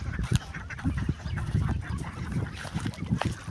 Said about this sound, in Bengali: দেখেন কতগুলো হাঁস এখানে